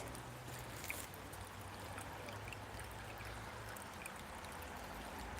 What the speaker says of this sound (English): It's the creek.